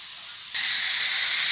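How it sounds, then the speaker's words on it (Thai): Thai fish cakes coated in rice and tapioca flour drop into oil over medium heat. A soft hiss suddenly swells into a loud, steady, bright sizzle that continues on its own. "แล้วคลุกอย่างนี้แล้วก็เอาลงไปทอดนะคะ"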